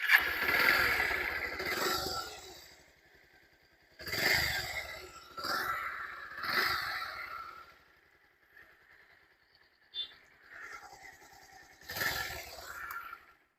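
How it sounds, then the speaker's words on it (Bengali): A motorcycle kicks into life and runs in several bursts of revving, separated by short quiet gaps and a low idle, heard close and alone. "এটা হচ্ছে আপনাদেরকে বাইকটা স্টার্ট দিয়ে একটু সাউন্ড কোয়ালিটিটা একটু শুনিয়ে দিই"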